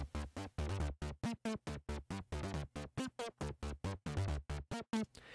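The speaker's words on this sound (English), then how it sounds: "the first thing is going to be this init saw wave." A raw, buzzy detuned saw wave synth tone pulses in rapid repeated stabs with gliding pitch, fairly quiet and steady throughout, no voices.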